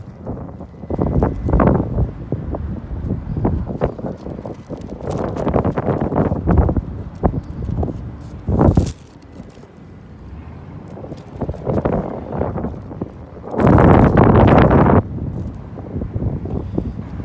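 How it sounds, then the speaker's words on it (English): Gusty outdoor wind buffets the microphone in heavy rumbling surges that rise and fall, with one especially strong blast near the end. "It's just windy."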